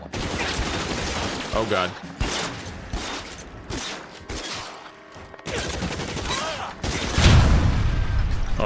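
Gunfire from a shootout in the video game L.A. Noire, dense bursts of shots and booms running continuously under a short spoken exclamation.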